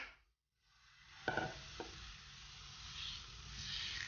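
Egg bread paratha sizzles steadily in a pan after a brief silence, with a couple of soft utensil scrapes near the start and the frying hiss swelling slightly toward the end.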